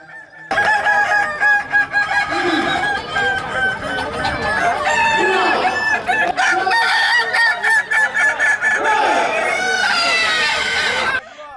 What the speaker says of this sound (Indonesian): masing-masing ayam dihitung jumlah kokok dan iramanya oleh 3 orang juri